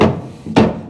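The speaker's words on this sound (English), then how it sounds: "take a hammer, and we're going to go ahead and see if we can just give it a knock" Two dull knocks of a hammer on a stuck car blower fan motor, close by, the second sharper and louder, with a faint rattle trailing after.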